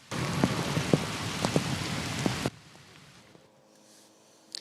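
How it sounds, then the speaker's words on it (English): Heavy rain pours down during a monsoon storm in Ahwatukee, a dense steady downpour with scattered sharper drops that cuts off abruptly partway through, leaving only a faint, distant patter. "As more rain picked back up."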